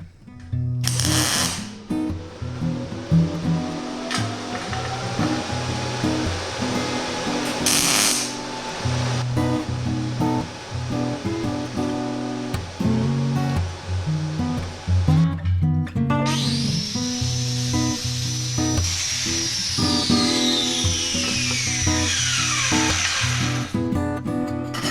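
Scrap metal pieces of square tubing are cut with a power tool, a loud harsh grinding whine that rises and falls in pitch over several passes, with short bursts and pauses between cuts in a workshop.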